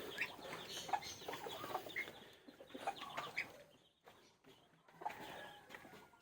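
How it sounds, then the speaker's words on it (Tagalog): Chickens clucking outdoors around a watering spot, several birds giving repeated short clucks and calls at varying distances, fairly faint, with a quieter gap partway through before the clucking resumes. "Okay guys, bigyan ko muna ng tubig yung manok."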